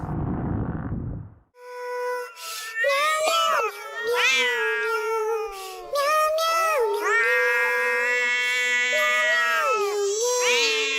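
Cats meow and yowl back and forth in drawn-out, wavering cries, loud and close, after a brief burst of rumbling noise at the start.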